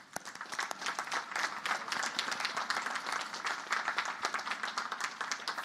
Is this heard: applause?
yes